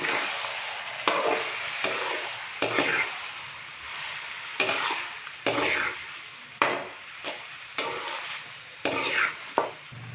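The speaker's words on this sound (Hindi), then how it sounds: "स्पाइसेस डालने के बाद हमने अच्छे से बीफ को भून लिया है।" Beef with spices and yogurt fries in a pan, a steady close sizzle broken by repeated scraping stirs at roughly one-second intervals, with no talking.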